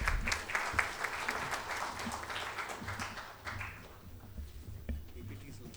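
Audience applause at a management day book launch and talk, a steady wash of clapping throughout with a few louder claps near the end, a voice occasionally heard underneath.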